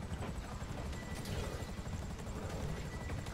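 Steady low rotor thrum of a helicopter in GTA 5 Online, continuous and fairly close throughout, with faint background game noise and no clear talk.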